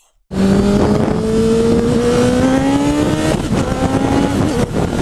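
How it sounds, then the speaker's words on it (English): A Honda Fireblade sport motorcycle engine roars to life and revs hard, pitch climbing steadily as it accelerates, loud and close, then drops briefly before rising again. "Love the torque on this fire blade, man."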